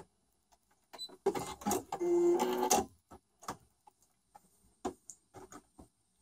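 A sewing machine runs a short, loud burst of stitching while backstitching at the end of a topstitched seam, then gives a series of quieter separate ticks and clicks as it slows and stops.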